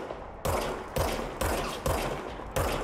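Gunshots from the video game Control, five evenly spaced loud reports about half a second apart, each with a punchy low thump and a decaying tail, with no talk.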